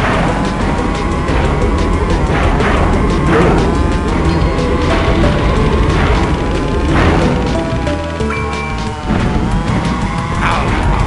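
Bomb weapon firing and exploding in the kart racing game Crash Team Racing, booms and crash hits recurring over a constant roaring kart engine and skidding tires, loud throughout.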